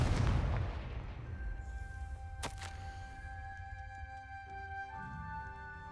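A Confringo fire spell explodes in the Hogwarts Legacy video game: a loud, heavy burst opens the moment, then fades into a sustained tonal ring with a second crackle midway.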